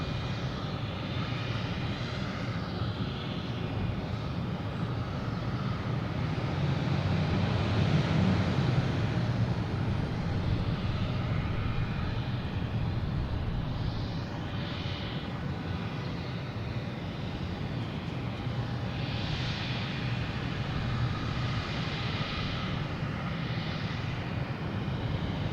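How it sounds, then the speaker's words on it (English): An American Airlines airliner arriving from DC at Boston Logan passes with a sustained jet roar. It swells to a peak near the middle, then settles into a steady rumble with wind buffeting the microphone. No one talks. "next coming in is American Airlines from DC"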